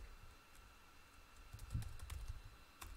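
Light, quick typing on a computer keyboard, a faint scatter of soft key clicks that grows denser toward the end in a quiet room.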